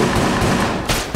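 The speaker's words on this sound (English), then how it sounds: "These bats are grenades." Grenade bats exploding in the pixel-art dungeon shooter Enter the Gungeon: a loud, busy game mix with a couple of sharp, dull blasts close together near the end.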